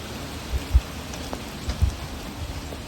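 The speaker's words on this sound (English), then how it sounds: "Rainfall" Steady rain falls on a February day in Dripping Springs, a continuous dense hiss with a few soft low thumps of drops, no voices.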